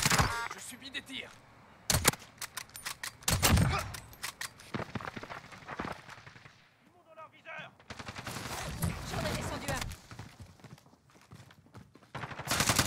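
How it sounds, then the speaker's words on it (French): Bursts of gunfire from Call of Duty Warzone crack out in repeated volleys across the clip, some sharp and loud, others rattling in longer automatic strings, with French voices talking between and over the shots. "Je subis des tirs."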